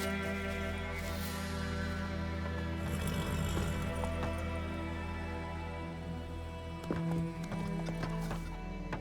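The horse Roach gallops in The Witcher 3, rhythmic hoof clip-clops running steadily under game music, with a brief whinny and a few sharper impacts.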